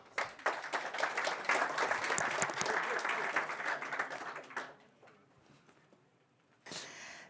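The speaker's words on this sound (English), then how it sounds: "So let's give her a big applause and listen to her talk." A conference audience at a tech event applauds a speaker for about five seconds, a dense burst of clapping that fades out, followed by a brief faint sound near the end.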